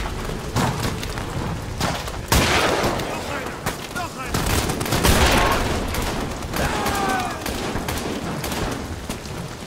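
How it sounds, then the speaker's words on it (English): Gunfire in the World War I bunker horror game Amnesia: The Bunker, with loud, irregular volleys of shots and booms echoing throughout while someone speaks over them. "Somebody else shooting?"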